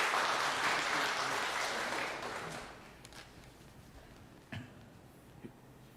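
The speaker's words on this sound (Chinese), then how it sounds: "我们拍手欢迎他" A congregation claps in church to welcome the pastor, dense applause filling the room at first and then fading to a few scattered claps and quiet.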